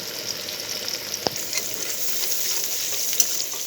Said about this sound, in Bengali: পেঁয়াজটা হালকা ভাজা হয়ে আসছে